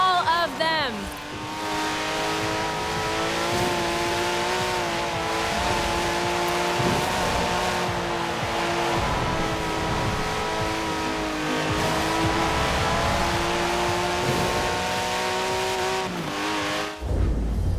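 Turbocharged flat-six Porsche 911 driven in the racing game Forza Horizon 4, a steady engine drone with rising and falling revs that runs loud and continuous throughout, with a voice talking over it.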